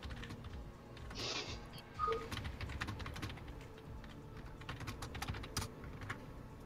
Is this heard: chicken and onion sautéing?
no